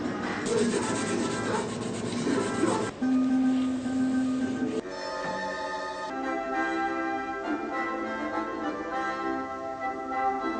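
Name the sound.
sanding electric violin fingerboard with steel wool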